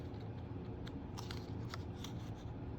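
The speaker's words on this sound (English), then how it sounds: "I'm going to trim these ends" Scissors trim the ends of paper tags in a few light, quick snips at close range over a steady low background hum, with no voices.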